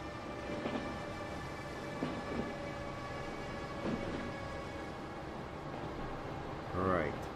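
Electric trains running in the Transport Fever game, a steady rumbling rail drone with periodic wheel thumps and a short whine near the end, heard under someone talking.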